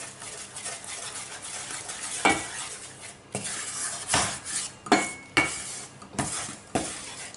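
Baking soda being stirred into a homemade stain-remover soap paste for laundry, with repeated scraping and clinking of a utensil against a bowl in uneven strokes, close and fairly loud, without talk.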